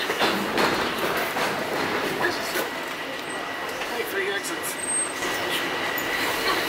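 A Toronto transit train car rumbles with a steady, loud broadband roar and faint rhythmic clatter of wheels on track, continuous from start to finish, with people talking under the noise.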